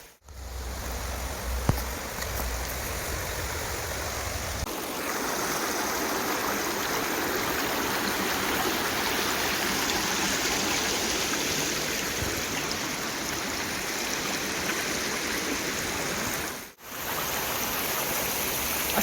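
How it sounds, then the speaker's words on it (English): A waterfall at the Nanoose rest area in British Columbia roars steadily, a broad, continuous rushing wash that holds even for a long stretch, with a brief low rumble of handling noise at the start. "There's a waterfall right there at the Nanoose rest area."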